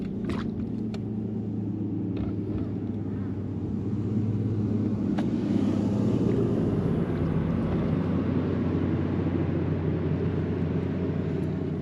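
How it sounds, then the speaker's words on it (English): A motor boat passes by on water in thick winter fog, its low engine rumble steady and swelling slightly louder midway as it draws nearer, heard alone without talk. "it's scary when those boats come by in the fog"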